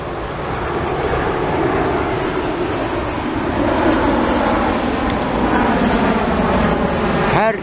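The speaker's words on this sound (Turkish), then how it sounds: "Her 2 dakikada bir uçak iniyor." An airliner comes in to land at Antalya airport at dusk, a loud, continuous roaring jet rumble that stays strong and close throughout.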